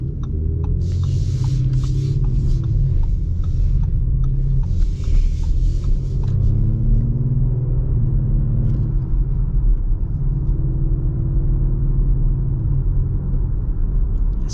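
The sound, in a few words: 2025 Audi SQ5 driving in auto mode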